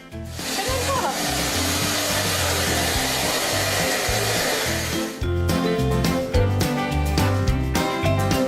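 A household vacuum cleaner runs indoors near a dog and a small child, giving a loud, steady whirring roar that holds throughout, briefly dips and resumes, with a rhythmic musical beat underneath.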